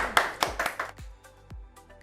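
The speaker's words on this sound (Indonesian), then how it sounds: "tepuk tangan dulu dong" A few scattered, sharp claps spaced irregularly, faint and sparse rather than a full round of applause.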